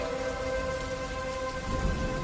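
Steady rain falling, a constant dense hiss of drops on surfaces with a low rumble underneath, continuous and fairly loud with no voices.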